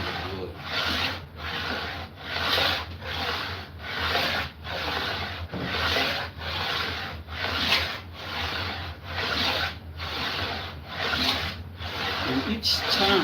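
A hand plane takes long shaving passes over 100-year-old wood, a steady rhythm of about a dozen loud, close rasping strokes with short pauses between them, heard alone.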